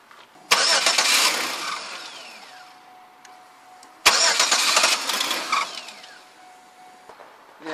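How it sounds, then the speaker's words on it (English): A car's starter cranks the engine in two short bursts of whirring and churning, each lasting a few seconds and cutting off, heard up close with no talking. "I'm just going to turn the starter a little bit to get the belt pump and the pump."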